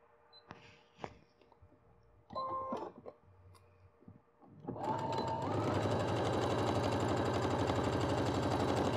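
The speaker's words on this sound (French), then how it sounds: "au niveau de la machine, j'assemble au pied point droit" A domestic sewing machine sews a zip with a straight-stitch foot, first a few clicks and short bursts as the work is set, then a steady loud running whir of rapid stitching that continues to the end.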